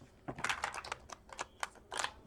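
Tarot cards being shuffled by hand in short crisp bursts of riffling and flicking, several quick clusters with brief pauses between, close and fairly quiet.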